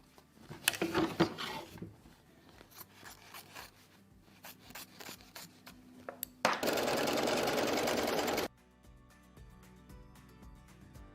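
An embroidery machine stitches the piecing of a quilt block, with scattered clicks and rustling before a loud, steady burst of rapid stitching lasting about two seconds, then quieter mechanical hum.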